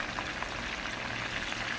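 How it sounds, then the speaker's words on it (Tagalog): Fish frying in a pan gives a faint, even sizzle and crackle with no voices over it. "prito tayo ng isda"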